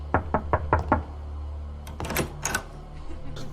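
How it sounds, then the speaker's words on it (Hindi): Five sharp knocks on a door in a quick, even run, close and clear, followed by a pause and then some faint clattering and rustling in a quiet room. "जब मैंने दरवाज़ा नॉक किया"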